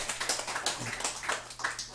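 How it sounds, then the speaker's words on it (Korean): A church congregation applauds during a Sunday morning worship service, a quick patter of many hands clapping that holds steady and fairly soft for about two seconds. "이렇게 박수 쳐주는 교회는 등대교회밖에 없어요."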